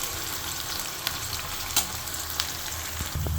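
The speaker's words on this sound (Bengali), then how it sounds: "এবার এই পেঁয়াজটাকে আমরা ভালোভাবে নাড়ায় চাড়ায় ভালোভাবে ভাজা নিব, একদম লালচে লালচে করে ভাজা নিব।" Chopped onions frying in a pan with a continuous close sizzle, broken by occasional sharp clicks of a utensil against the pan.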